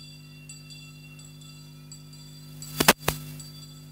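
A last-lap bell rings at a cycling race, a short burst of bright clangs close together near the end, standing out over a steady background hum.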